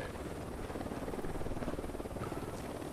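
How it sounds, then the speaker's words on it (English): A helicopter approaches in the Ghost Recon Wildlands video game, its rotor producing a loud, steady, dense thumping roar that fills the whole moment with no talk. "We got a chopper coming in."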